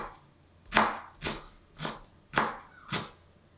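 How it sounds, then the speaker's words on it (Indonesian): Five crisp knife chops on a board, evenly spaced about half a second apart, as ginger is roughly cut for a rendang spice paste. The chops are close and clear over a quiet kitchen background. "Jahe juga dipotong kasar aja guys, supaya ngeblendernya lebih mudah."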